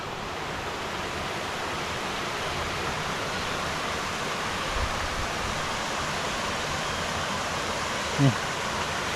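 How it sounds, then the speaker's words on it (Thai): Water pours steadily down between the rocks at Bang Pae waterfall, a dense, even roar that fills the whole stretch, close and constant with no pauses. "น้ำไหลลงประมาณนี้ไหลตามซอกหินลงมาครับ"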